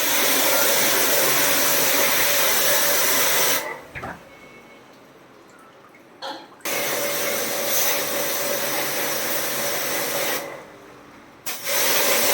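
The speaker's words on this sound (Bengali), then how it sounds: "সমস্ত সার্ভিসিং আমাদের জেট পাম্প দিয়ে" A jet pump sprays water to clean an air conditioner during home servicing, a loud steady hissing roar that cuts off twice for a few seconds of near silence before starting again.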